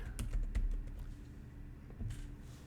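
Quiet typing on a computer keyboard in a classroom setting, an irregular run of soft key clicks with a few heavier taps, close by and with no talking.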